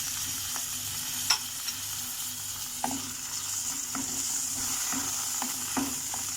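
Beans and peas sautéing in a pan, a steady soft sizzle with scattered clicks and taps of stirring, no voices.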